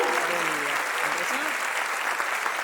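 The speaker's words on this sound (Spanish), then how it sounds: "un aplauso por favor para los miembros del Comité del Niño" An audience at a lecture gives steady, sustained applause for committee members, a dense even patter of clapping heard clearly, with faint voices murmuring underneath early on.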